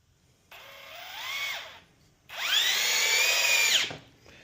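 A power drill driving a self-countersinking GRK screw into plywood, two close whirring bursts that rise in pitch as the motor spins up, the second longer and louder, with no talk.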